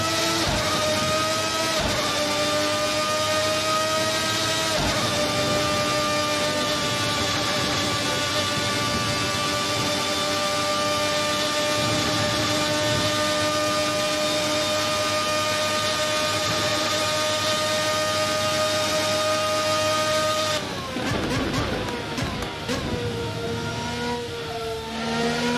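A Formula RSS 1990 V12 F1 car engine in a racing simulation game howls steadily at high revs for a long stretch, with a sharp shift in pitch near the end as the throttle changes, loud and close with no talk.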